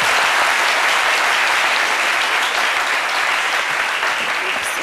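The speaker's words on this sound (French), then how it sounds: "On applaudit très fort pour Nathalie." Studio audience applause on a French daytime television show, a dense, loud, even roar of many clapping hands sustained for about five seconds with no talking over it.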